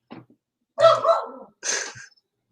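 A dog gives a few short barks and yips indoors, close and fairly loud, with brief pauses between them and no one talking over it.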